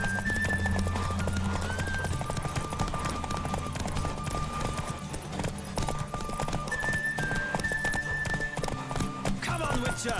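Horse galloping in The Witcher 3 race, dense continuous hoofbeats drumming close and loud throughout, layered with music and a brief whinny, with faint speech in the mix.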